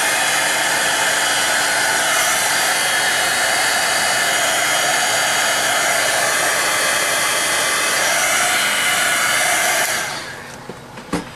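A hair dryer blasts loud and steady at close range over freshly glued chipboard, then cuts off near the end, leaving a few faint clicks and handling noises.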